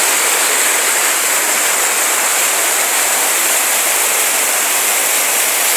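A river swollen with summer runoff in Colorado roars in one loud, unbroken rush of white water that fills the whole stretch, steady and close, with no voices.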